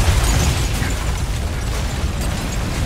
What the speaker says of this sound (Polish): Nawet nie patrzyłem na eksplozję